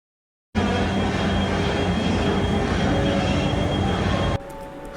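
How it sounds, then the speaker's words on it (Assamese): A Vande Bharat high-speed train at a station near Jaipur produces a loud, steady roar of wheels and machinery that begins abruptly and drops to a quieter rumble near the end. "বন্দে ভাৰত আমি সকলোৱে জানো এখন হাই স্পীড ট্ৰেইন হয়"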